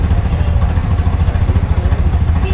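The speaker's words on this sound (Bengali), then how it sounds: "এবার ইঞ্জিন গরম হচ্ছে।" A CNG auto-rickshaw engine idles while warming up at a bazaar near a railway station. The low, throbbing, pulsing rumble is close and loud and holds steady throughout.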